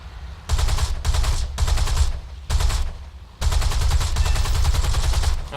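Bursts of machine-gun fire from an XP-50 fighter plane in the War Thunder video game, several sustained rattling volleys separated by short pauses, loud and close, ending in one long continuous burst.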